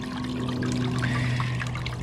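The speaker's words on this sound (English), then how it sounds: "keeping enough water flow to keep everything down" Water pours and trickles steadily from a bilge pump slowed down for gold prospecting clean-up, a continuous close splashing flow over a low steady motor hum.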